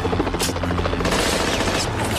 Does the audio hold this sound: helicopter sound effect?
yes